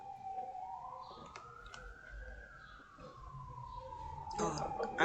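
An ambulance siren wails outside, rising and falling in one long sweep at moderate distance as it passes, with faint clicks and background noise.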